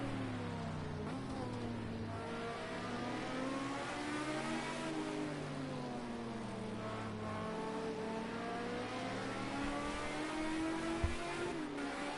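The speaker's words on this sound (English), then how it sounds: "let you just have a enjoyment of this car and the sounds of these 2 cars here" Historic endurance racing car engines roar continuously at the Nürburgring, revving up and down through gear changes, with one car's pitch rising and falling as it passes on the track.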